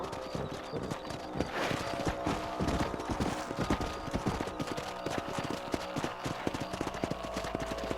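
Horse hooves clip-clop in a fast, even rhythm in the Western video game Red Dead Redemption, loud and close, with a brief whinny mixed in.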